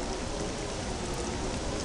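Steady acid rain falls in the video game Star Wars Jedi Academy as a dense, continuous hiss with no distinct drops or voices.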